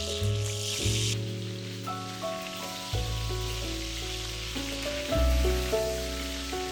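Chicken thighs sear in a hot pan, giving off a continuous bright sizzle that sits under louder background music with sustained notes and no talking.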